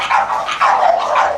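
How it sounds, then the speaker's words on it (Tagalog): Several dogs barking together in a kennel with stainless steel cages, a loud, close, continuous overlapping chorus of barks with no talk. "Mahigit sa 15 na maliliit, malilinis, masisigla, masasaya na aso ang nasa kennel ni Benru."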